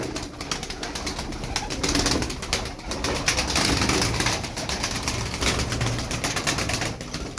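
Pigeons, a flock of eleven birds, coo and flap their wings lightly in a loft, a dense steady mix of close cooing and rustling with no speech over it.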